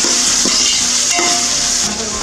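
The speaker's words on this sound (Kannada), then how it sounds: "ಈರುಳ್ಳಿ ಹಾಕ್ಕೊಂಡು ಚೆನ್ನಾಗಿ ಫ್ರೈ ಮಾಡ್ಕೊಳ್ಳೋಣ." Sliced onions fry in hot ghee and oil for biryani, giving a steady close sizzle and hiss with a few soft stirring scrapes against the pot.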